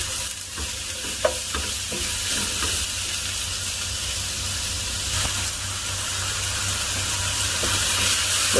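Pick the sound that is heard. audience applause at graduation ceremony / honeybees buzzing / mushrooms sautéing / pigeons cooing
mushrooms sautéing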